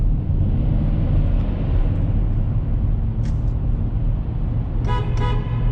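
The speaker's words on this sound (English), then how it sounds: "I always honk my horn when I go through the tunnel." A steady engine drone fills a road tunnel, with a short honk and then a double honk of a car horn near the end.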